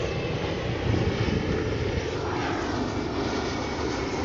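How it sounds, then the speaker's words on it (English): An airplane passes low overhead near an airport beside a shopping area in Roanoke, Virginia, its engine roar loud and steady throughout and rising briefly as it passes. "There's an airplane."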